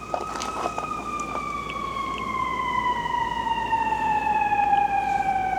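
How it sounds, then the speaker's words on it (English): A siren wails continuously outdoors, its tone slowly falling and growing a little louder, with faint traffic rumble underneath and no talking. "there's the police cars running outside"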